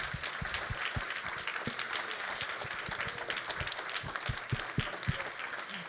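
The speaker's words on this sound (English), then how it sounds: "Please give them a big applause to our speakers." Applause for conference panel speakers at a university event, fairly faint and distant, with scattered distinct hand claps standing out over a continuous wash of clapping.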